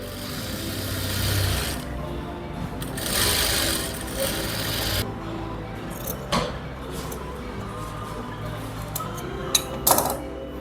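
Sewing machine stitching along folded buckram for salwar cuffs, a soft steady mechanical whirr in bursts, with fabric handling rustles and a couple of sharp clicks near the end.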